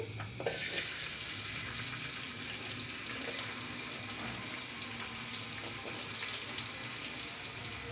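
Chopped garlic and onion hit hot oil in a village-style kitchen, a sudden loud sizzle that settles into a steady, bright frying hiss with light stirring noises.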